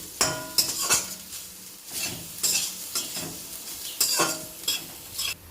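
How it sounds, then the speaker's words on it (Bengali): Taro flowers frying in a pan with salt and turmeric, a soft sizzle under repeated scraping and stirring clatters of a spatula against the pan, close up and with no talk. "ভেজে নেব"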